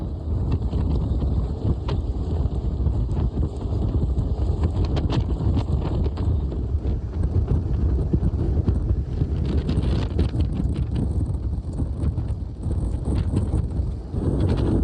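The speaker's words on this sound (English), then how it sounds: "it's blowing a hoolie again. I can't remember the names, and it's too windy to get map out" Strong gusts buffet the microphone on an exposed fell summit in the Howgill Fells, a continuous loud roaring rumble with no let-up and nobody talking throughout.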